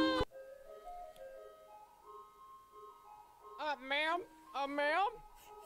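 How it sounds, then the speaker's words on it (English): A tinkling ice cream truck jingle from the Sonic the Hedgehog (2006) video game plays softly, and voices then speak excitedly over it. "It's the ice cream truck!"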